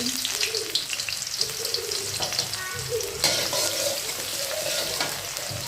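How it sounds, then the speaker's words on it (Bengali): Cumin, garlic and onion sizzle and fry in hot oil as a base for cabbage, a steady crackling hiss close by with occasional stirring, continuous throughout. "আমি তেল দিয়েছি, পাতাকপি ভাজি করব। এখন জিরা দিয়েছি, আজকে একটু রসুন দিচ্ছি, একটু পেঁয়াজ দিচ্ছি"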